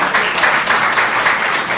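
Dense crowd applause at a Thalassemia World Day charity welfare event, loud and steady throughout, many hands clapping together with no pauses and no talk.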